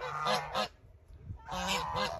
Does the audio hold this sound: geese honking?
yes